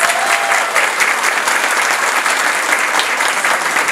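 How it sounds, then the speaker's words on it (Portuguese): A crowd at a school inauguration in the São Francisco neighborhood of Caxias, Maranhão, breaks into sustained, dense applause for the mayor, steady and loud throughout with no speech over it. "a quem eu peço uma calorosa salva de palmas"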